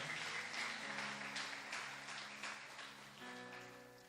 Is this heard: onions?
no